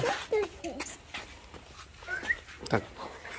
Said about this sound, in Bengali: বেবি ডগ কি এটা